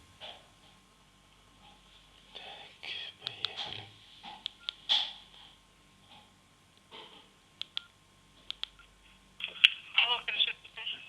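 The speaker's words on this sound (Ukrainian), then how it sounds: "Ось цей номерочок їхній набираємо." Telephone keypad tones as a number is dialed to a regional police office, a series of short, sharp beeps and clicks spread irregularly across the clip, with quiet background noise and some speech-like sounds in between.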